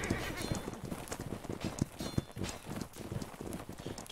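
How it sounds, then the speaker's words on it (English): Rapid hoofbeats of a galloping cavalry horse in the game Holdfast pound steadily throughout, with a busy, game-like mix and faint voices underneath. "Can this Donny get off his fucking horse, mate?"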